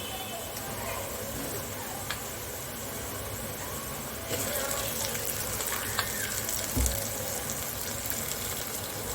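Corn kernels fry with browned onions in a pan for makai chevdo, a dry corn snack. A faint, steady sizzling hiss grows slightly louder partway through, with a few small clicks.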